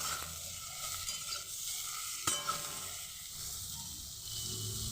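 Flat beans with salt and turmeric sizzle and hiss steadily in a hot pan, with occasional scraping and clinks of stirring.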